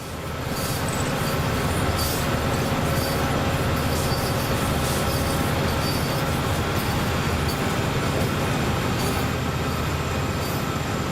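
Diesel locomotive engines running in Train Sim World 5, a dense, steady mechanical roar with rail clatter that continues throughout without a break.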